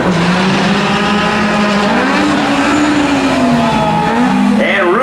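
Acura drag race car at N.C. Dragway running down the track, its engine a loud steady drone with rising pitch sweeps throughout, under a track announcer's voice.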